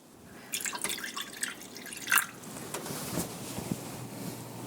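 Water is poured into a baking pan around crème brûlée ramekins, a soft trickle with scattered drips and splashes that swells briefly, then settles into a steady quiet flow.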